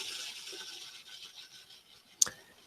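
The small chainsaw blade on a toy blaster spins with a quiet, steady, scratchy whirring rasp and ends in a short, sharp click. It is heard close up, with no voices.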